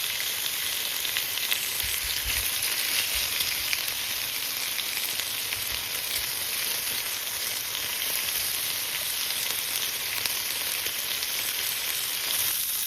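Pork and chicken barbecue sizzles steadily in a grill pan, a continuous close hiss of frying meat throughout with faint clatter near the start.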